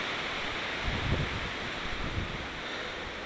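Strong wind buffets the microphone during a DJI Spark drone flight, a steady loud rushing roar with a couple of low gusty thumps and no voices.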